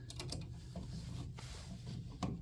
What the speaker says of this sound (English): Get it lined up with the power screwdriver here.